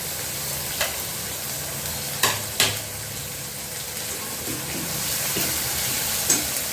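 Onion paste and mustard paste fry in a pan for a snail curry, giving a steady, even sizzle broken by a few sharp clinks and scrapes of a spatula against the pan.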